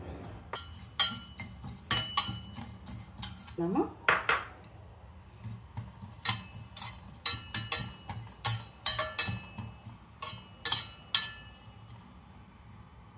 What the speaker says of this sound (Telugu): ఇప్పుడు ధనియాలు వేసి వేపుతున్నాను.